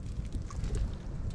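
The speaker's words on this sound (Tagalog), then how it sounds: "lumakas yung hangin no?" Strong wind gusting across an open, broken fishpond, a steady low roar of buffeting noise on the microphone with no talk.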